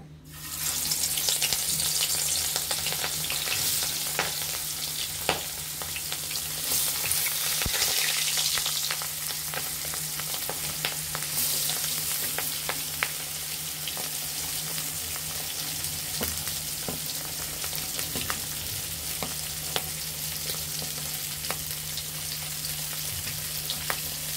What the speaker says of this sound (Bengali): এখন আমরা মাছগুলো তেলে ভেজে নেব।